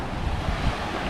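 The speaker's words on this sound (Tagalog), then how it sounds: "Malaki yung alon." Big ocean waves at the sea surge and rumble in a loud, continuous roar with heavy wind buffeting the microphone.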